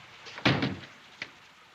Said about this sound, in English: Let the girl go and shut the door.